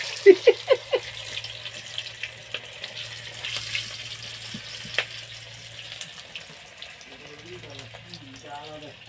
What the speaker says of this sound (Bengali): দুয়ারে করে মাংস ভাজা করছে এখন